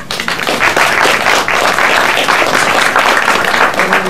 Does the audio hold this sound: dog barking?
no